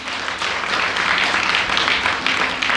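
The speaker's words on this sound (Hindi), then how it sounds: "मेरे दयानंद के लिए जोरदार ताली बजाओ" A large audience at an Arya Samaj Vijayadashami gathering claps loudly and continuously, a thick, even roar of many hands with no pauses.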